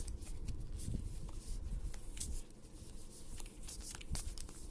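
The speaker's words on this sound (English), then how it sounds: "We take this Hisuian Heavy Ball, replace it into our prize cards, shuffle all of them." Pokemon trading cards are shuffled by hand, with a steady run of soft riffling and flicking sounds close up and no speech.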